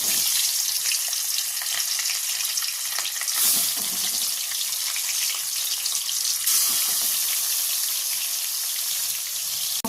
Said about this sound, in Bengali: যতক্ষণ মাছটা আমার ভাজা হচ্ছে